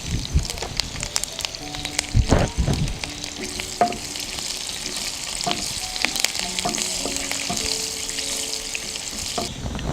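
Mustard seeds, shallots, two or three dried chillies and curry leaves fry in coconut oil for a Kerala-style chickpea curry tempering, giving a steady close sizzle and crackle with a loud popping burst early on.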